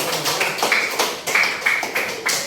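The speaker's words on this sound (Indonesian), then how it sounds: "Tepuk tangan dulu untuk keluarga." Students in a coding class clap briefly, a handful of close, distinct claps and taps falling in an uneven rhythm.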